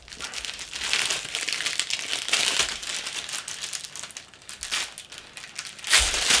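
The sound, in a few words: crinkling plastic resealable bags of a model kit being opened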